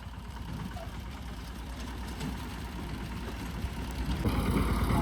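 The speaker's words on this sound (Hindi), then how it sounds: "ट्रैक्टर छोटकी टा के छै, बढ़िया ट्रैक्टर छै" A small tractor engine idles steadily nearby with a low, even rumble that grows a little louder toward the end, and no one speaks over it.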